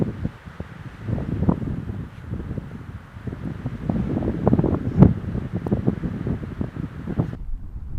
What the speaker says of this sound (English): This wind's not gonna slow down.